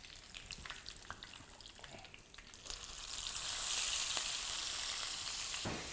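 Mustard seeds, cumin and curry leaves sizzle in hot oil, a light crackle that swells into a loud, steady frying hiss partway through, with a sharp spatter near the end.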